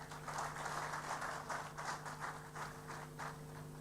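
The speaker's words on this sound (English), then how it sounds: "Let's welcome him to the podium with a round of applause." Audience applause at a public lecture, faint and distant, with a rapid scatter of clapping that swells in uneven pulses over a steady low hum.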